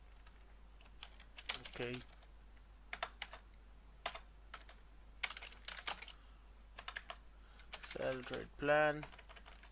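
Fingers type on a computer keyboard in quick bursts of soft, close clicks separated by short pauses, with someone speaking briefly between them.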